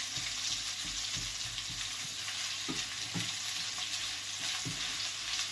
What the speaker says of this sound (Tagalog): Igisa po natin siya na maigi.